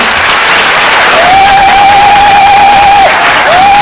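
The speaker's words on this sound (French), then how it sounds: "On acclame le Seigneur, il y a une bonne nouvelle pour vous." A church congregation at a pastoral opening Mass applauding loudly and continuously, a dense wash of clapping with some cheering, close and filling the space.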